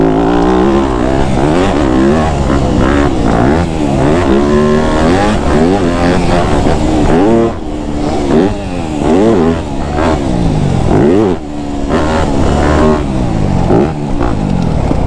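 Dirt bikes race through the rollers and whoops of a supercross straight rhythm track, several engines revving and buzzing loudly and continuously with rising and falling pitch as the riders accelerate and jump.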